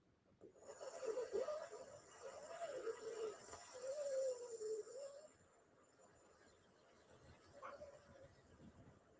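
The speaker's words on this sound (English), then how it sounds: "start your breath pattern" Slow, gentle breathing during a yoga breath-pattern exercise, a faint, steady airy rhythm of drawn-out inhales and exhales in a quiet room, with no talking.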